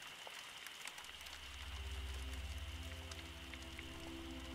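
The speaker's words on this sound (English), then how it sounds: "rain on the window" Steady rain patters against a window in a forest cabin, a soft continuous hiss with a low rumble swelling in after the first second, quiet and even throughout.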